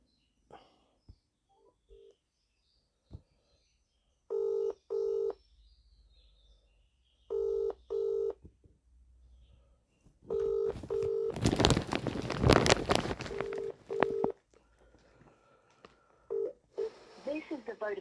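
Telephone keypad tones sound in short paired bursts while a mobile number is dialed, with clicks between them, followed by a brief burst of broadband noise and a few more tones.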